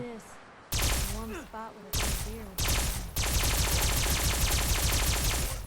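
Automatic fusion-core shotgun firing in Fallout 4, a bulky modded weapon: after a short talking stretch, loud blasts come in quick bursts, then a sustained rapid string of close, heavy shots.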